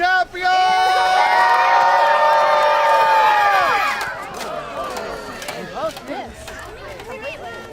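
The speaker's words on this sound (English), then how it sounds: "Cheer your champions!" A large crowd at a Renaissance faire joust roars with sustained cheering and whoops, loud and dense for about four seconds before thinning into scattered shouts and calls.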